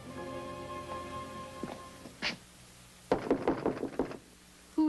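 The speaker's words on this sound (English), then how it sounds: "I knew I tapped the right door." A few soft knocks on a door, then a quick series of sharper raps against a quiet hum of background music.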